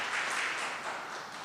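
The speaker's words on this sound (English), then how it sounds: "Can we give them a hand of applause" An audience applauds a panel at the close of a discussion event, a steady wash of many hands clapping at moderate distance that carries on for the whole moment without pause.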